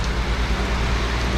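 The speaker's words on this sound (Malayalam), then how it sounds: "ഇവിടെ ഇപ്പോൾ കുറച്ച് ദിവസമായിട്ട് നല്ല മഴയാണ്." Heavy rain and gusting wind blow into the open doorway of a moving Vande Bharat Express train, a loud, dense, continuous roar with a low rumble underneath.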